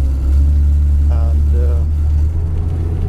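Inside the cabin of a Bv 206 tracked vehicle driving in snow, the engine makes a loud, deep, constant droning rumble that fills the space, while a voice speaks briefly over it.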